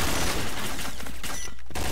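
A dense burst of automatic gunfire in the video game Point Blank, loud and continuous rapid shots blending into a roaring fusillade that breaks off briefly near the end.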